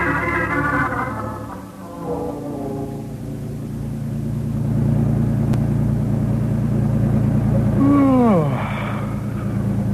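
Steady low car engine rumble and road vibration runs throughout, with a brief tonal swoop near the end layered over it; a vintage radio-drama driving scene.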